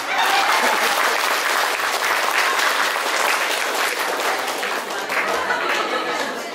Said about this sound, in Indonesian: Tepuk tangan dulu untuk saya hari ini.